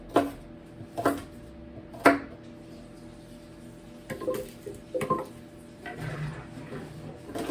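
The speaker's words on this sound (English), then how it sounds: "I want to chop this a little bit so it runs a little easier." A fibrous ingredient for a raw vegan curry sauce is chopped with a knife on a board: three sharp, close knocks about a second apart, then a quieter, looser run of cuts and scraping.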